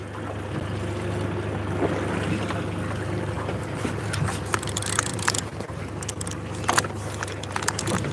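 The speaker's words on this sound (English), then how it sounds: "Hear another boat going by" A boat passes unseen on the ocean near Bandon, Oregon, a continuous low motor drone under wind, with light clatter and knocks aboard the fishing boat.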